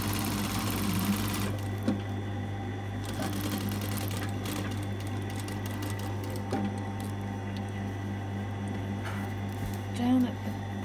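Sewing machine stitching over stay stitching to attach a garment collar, a steady low mechanical whirr running throughout with a constant hum beneath, light clicks scattered over it.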